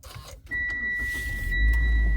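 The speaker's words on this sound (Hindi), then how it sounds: "गाड़ी स्टार्ट हो गई है।" A car engine starts inside the vehicle: a quiet hum jumps up with a steady electronic tone, then a deeper low rumble swells as the engine catches and settles into a close, even idle.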